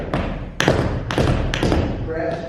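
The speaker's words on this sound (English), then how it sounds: "3-sound press cramp roll." Several sharp tap-shoe strikes in quick clusters, a three-sound press cramp roll on a hard floor, close and fairly loud.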